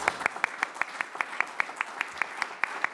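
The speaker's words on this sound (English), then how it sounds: "how about a round of applause for our 5 panelists?" Audience applause for five panelists at a climate summit, sparse and fairly quiet, with a few distinct hand claps standing out in a steady rhythm over a soft background of clapping.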